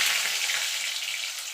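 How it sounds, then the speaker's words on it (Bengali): Potatoes frying in oil in a pan for a Bengali vegetarian dhokar dalna, giving a steady, close, bright sizzle that holds evenly for the whole short stretch with no talking. "আলুটা লাল লাল করে ভেজে নেব।"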